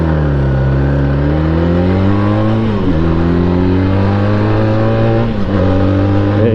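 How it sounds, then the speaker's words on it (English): A motorcycle engine revs steadily through a restrictive muffler, a loud, close, continuous droning note that dips briefly twice as the throttle shifts, with no talking. "you can just hear all the power being choked up by that muffler"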